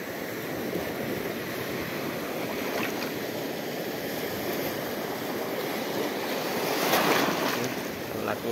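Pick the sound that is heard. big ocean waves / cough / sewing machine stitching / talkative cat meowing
big ocean waves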